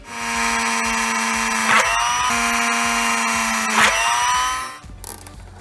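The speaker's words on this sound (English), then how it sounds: "I'm gonna try to drill 2 little holes so that we can route a zip tie through it" A power drill bores two small holes in a car part on a BMW 135i with an N54 engine, so a zip tie can be routed through. The motor whines loudly and steadily in two long runs, each ending in a brief bite, then cuts out.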